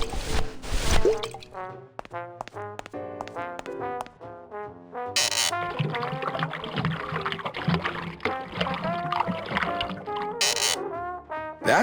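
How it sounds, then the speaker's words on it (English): Fake ocean water dripping into a diorama in Grim Fandango, a run of watery drips and splashes over a game music background, close and moderately loud. "Fake ocean water."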